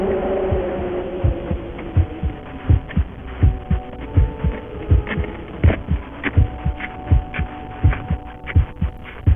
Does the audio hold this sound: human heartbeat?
yes